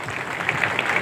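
An audience claps at a village gram panchayat gathering in Dohale, Bhiwandi taluka, a brief dense burst of many hands heard close and fairly loud.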